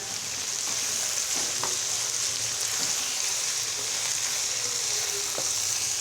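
Onions fry loudly in a pan while being stirred, a constant dense hiss with occasional scraping strokes of the spoon against the metal.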